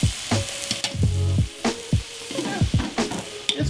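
Onions sizzle and fry steadily in a pan for beef stroganoff, with a continuous close hiss broken by repeated scraping stirs and utensil knocks; no talking.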